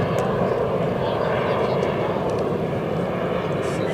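A Cirrus Vision SF50 single-engine personal jet flies overhead at an airshow, a steady, loud engine roar that holds evenly throughout with no break.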